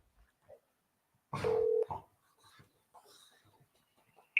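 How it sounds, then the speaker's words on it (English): Telephone dialing tones calling a number: one held electronic tone about half a second long, with faint rustling and soft handling sounds around it in a quiet room. "we're calling another number"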